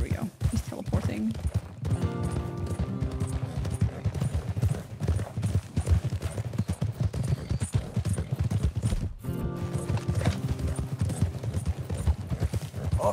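Horse hooves clip-clopping at a steady pace in the video game Red Dead Redemption 2, heard beneath game music and character voices.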